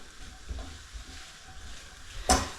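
Prawns sizzling in a frying pan, a soft steady hiss with low bubbling crackle, fairly quiet and close, ending in a brief sharp clatter.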